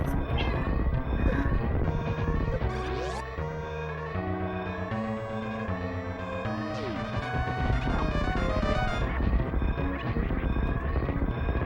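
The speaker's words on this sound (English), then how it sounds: "That is my cat still hitting the microphone." A cat meows repeatedly and knocks against a microphone, producing thumps and scrapes over a continuous game soundtrack of tones and engine-like drones, with no talking.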